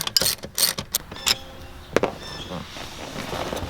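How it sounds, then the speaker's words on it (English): Seat bolts come out of an FJ Cruiser with a few quick ratchet clicks and metallic clacks, then a brief mechanical rattle, close and sharp. "take these two bolts out"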